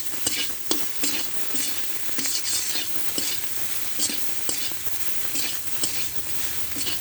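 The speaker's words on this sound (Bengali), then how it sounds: "লবণ দিয়ে সয়াবিন বড়িগুলো ভেজে নিতে হবে।" Soybean chunks fry with salt in a pan, a continuous close sizzle punctuated by regular scraping stirs, with no talking.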